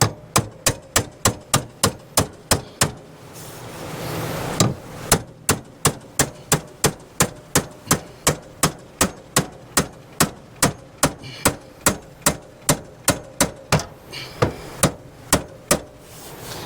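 A hammer taps an RV hand rail into the molding in a long, steady series of sharp, evenly spaced knocks, close and fairly loud, with one short pause partway through.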